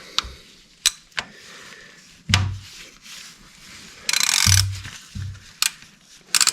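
A ratchet wrench tightens bolts on a Kubota LX2610/LX3310 tractor during service, giving sharp clicks and short bursts of ratcheting, with a longer ratchet run near the middle and a few clanks, nearby and without talk.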